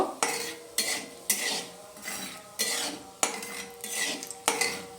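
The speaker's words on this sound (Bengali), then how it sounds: "দিয়ে দিচ্ছি 3টে এলাচ, দিয়ে এটা আমি কয়েক সেকেন্ড নেড়ে নেব।" Three cardamom pods are stirred briefly in a cooking pan for a vegetable dal, with about eight crisp metal spoon scrapes against the pan in a loose, regular rhythm, close and clear over a faint sizzle.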